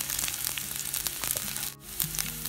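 Diced carrots sauté in a pan for creamy white sauce pasta, making a dense close sizzle with quick clinks of stirring and no talk.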